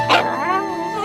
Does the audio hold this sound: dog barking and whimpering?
yes